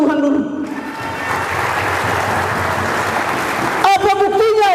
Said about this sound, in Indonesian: Tepuk tangan untuk Tuhan dulu.